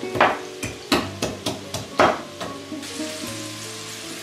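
Fresh ginger is crushed with about eight sharp, close thuds in an uneven rhythm, fading into softer knocks and a faint sizzle at the end.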